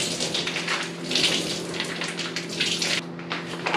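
Water draining and squeezed out of thawed frozen food for a casserole, a steady close splashing trickle with a brief lull near the end.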